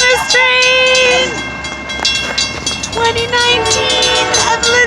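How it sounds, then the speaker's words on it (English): The Canadian Pacific Holiday Train rolls past with long, loud blasts of its multi-tone horn near the track, followed by rumbling wheels and clattering cars; bystanders murmur faintly in the background. "here comes the Christmas train!"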